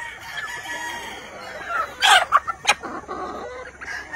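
Hatch Grey and Cardinal Club Kelso gamefowl on a Philippine farm give several sharp crows and clucks in quick bursts, fairly close, over a quiet farmyard background.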